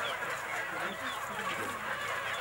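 Free-range native chickens on a farm cluck and murmur steadily as a dense flock, a continuous busy chatter with no single call standing out.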